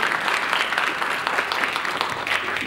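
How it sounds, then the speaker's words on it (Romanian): Applause from an audience at a Romanian folk song event in Cernăuți, many hands clapping in a dense, even, continuous roar at moderate loudness, with no talk over it. "Aplauze pentru că merită."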